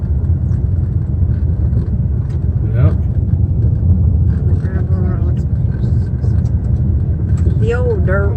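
A car drives along a gravel back road past swampland in rural Michigan, a steady low rumble of tires and engine running throughout while people talk over it.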